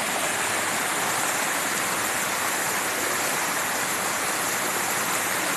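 Bikangkang Falls pours in a dense, loud, unbroken roar of falling water, steady and close throughout.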